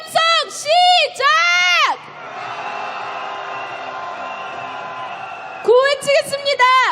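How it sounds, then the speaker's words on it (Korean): Crowd at a rainy candlelight impeachment march in Korea gives loud bursts of collective shouting and chanting, first in several strong surges, then a lull of steady crowd noise, then renewed shouts near the end. "윤석열 탄핵의 함성 시작!"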